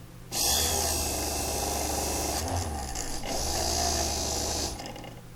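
A dental elevator is stroked back and forth on a flat sharpening stone, giving a close, continuous scraping rasp that starts abruptly, dips briefly midway and then carries on before cutting off near the end.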